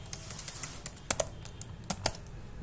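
Keystrokes on a computer keyboard as a network user command is entered at a command prompt, a dozen or so clicks in an uneven rhythm with a few sharper taps, close and fairly quiet, no talking.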